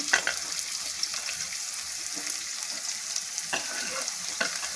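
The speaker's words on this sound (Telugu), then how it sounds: "ఇప్పుడు కొంచెం ఉల్లిపాయలు, పచ్చిమిరపకాయ ముక్కలు వేసుకోవాలి" Chopped onions and green chilies fry in a pan with cumin, a soft, steady sizzle punctuated by occasional light taps and stirring scrapes, fairly quiet and with no talking.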